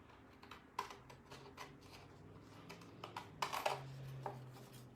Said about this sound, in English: Cut away the corners on the top and on the sides.